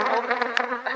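Bees buzz around a Flow Hive, a steady close insect drone lasting about a second with a brief louder pass, no voices.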